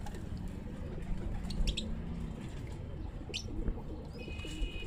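Low pigeons cooing steadily in the background, with a few high chirps and faint rustling of wings nearby, including a pilka pigeon.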